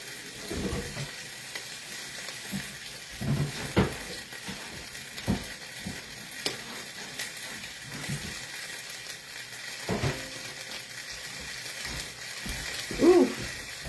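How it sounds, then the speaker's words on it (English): Potstickers sizzle in a hot pan during a live home cooking session, a steady crackling hiss with occasional louder pops and clatters of handling, fairly close and alone without talk. "Ooh, that is sizzling, y'all."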